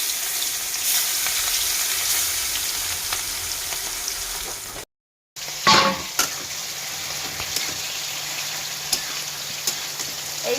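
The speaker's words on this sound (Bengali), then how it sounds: "তেল গরম হয়ে গেছে, এদিকে মাছটা ভাজা দিয়ে দিলাম" Farsa fish rubbed with turmeric and salt drops into hot oil, a steady dense sizzle swelling into a louder crackling burst after a brief break, then settling into a continuous close fry with occasional pops.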